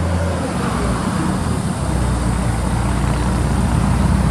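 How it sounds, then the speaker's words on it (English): A Toyota 02-3FG40 pneumatic-tire forklift, 8,000 lb capacity, running smoothly on its LP gas six-cylinder engine, a loud, steady, close idle drone with a deep rumble that firms up partway through. "Running a smooth LP gas Toyota 6-cylinder"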